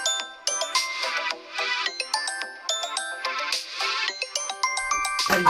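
A phone ringtone rings loudly and continuously in a Santali film scene, a bright melodic electronic tune with repeating chiming notes and no voices over it.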